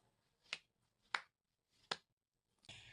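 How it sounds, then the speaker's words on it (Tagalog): Children clap three times in a classroom lesson, three crisp, well-spaced single claps in quiet, followed by a short burst of louder noise. "Bigyan natin ng 3 palakpak ang bawat isa."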